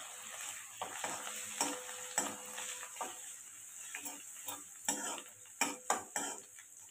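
Ginger garlic paste fries in oil in a pan with a soft, steady sizzle, broken by repeated clinks and scrapes of a spoon stirring against the metal.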